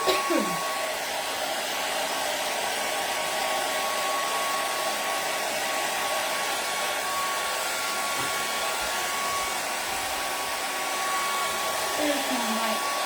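A hair dryer blowing steadily to dry paint on a flower door hanger, a continuous loud whooshing hum with a fixed motor whine that runs unbroken for the whole stretch.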